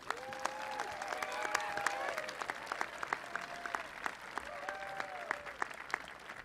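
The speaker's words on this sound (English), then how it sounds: "Ladies and gentlemen, please give a round of applause to Jacqueline Simeone." Applause from a commencement audience at IMG Academy, a broad crowd of clapping heard at moderate distance, with cheers and whistles rising over it and a murmur of voices underneath.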